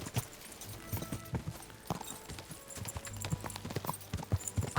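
Horse hooves clip-clop in the medieval game Kingdom Come: Deliverance II, an uneven run of sharp thuds close by over a low background, with a faint snort or whinny mixed in.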